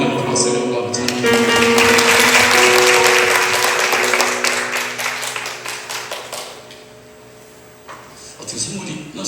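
Applause from a church congregation at a summer prayer meeting swells over sustained worship music, with scattered claps and taps continuing as the music fades toward the end.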